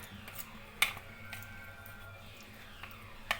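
A spoon stirs boiled cauliflower in a bowl for gobi Manchurian, giving soft faint scraping and squishing with two sharp metallic clinks against the bowl over a quiet background hum.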